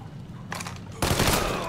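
Burst of rapid gunfire in the Mafia 3 video game on PS4, a thin crackle at first, then a loud dense volley of shots that continues to the end.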